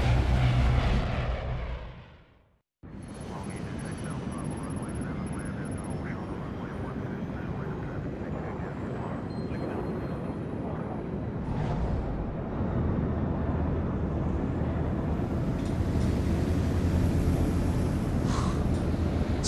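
A steady airplane engine drone inside a plane in Splinter Cell Blacklist, a loud continuous roar filling the scene after a brief cut, with some voices talking over it.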